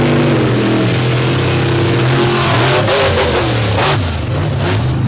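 Drag race cars launch side by side at Back to Bloomsburg, a Hemi-powered car against an Oldsmobile-powered one, Rammunition versus War Wizard, in a loud, sustained, roaring rev whose pitch wavers and dips near the end, with no voices.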